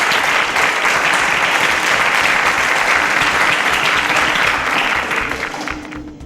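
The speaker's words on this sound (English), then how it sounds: "A round of applause for Emmanuel." Loud, sustained audience applause at a quiz show, a dense steady clatter of clapping that holds for several seconds and then tapers off at the end.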